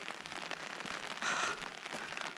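Rain falls steadily during a cruise on Maligne Lake near Spirit Island, a faint, even patter of drops on surfaces with soft crackling and no voices.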